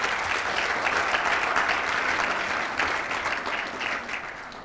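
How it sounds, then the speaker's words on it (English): A conference audience at a healthcare management conclave applauds the speakers, a dense, steady wash of clapping that holds loud throughout and tapers slightly toward the end. "Maybe a last round of applause for our stellar speakers."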